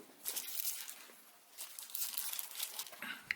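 White plastic bags wrapped around a pair of VIOFO A129 Duo dash cameras crinkle and rustle as they are unpacked, soft irregular crackling close by with brief pauses.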